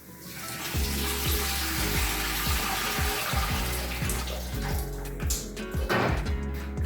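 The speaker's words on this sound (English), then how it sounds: "you guys want to add some water to the pot" Water pours steadily into a soup pot for meatball soup, a continuous splashing rush with a faint rhythmic clatter beneath, fairly loud and close with no talk.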